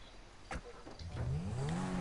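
A car engine revving in the GTA 5 Online video game, a rising mid-pitched engine note building and holding loud toward the end after a brief thump.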